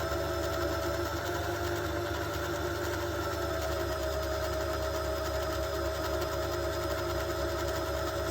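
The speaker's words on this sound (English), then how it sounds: "now I can wind this spool simply by putting on my feet on the pedal" A sewing machine's motor hums steadily and evenly while winding a bobbin spool under foot-pedal control, with no talking.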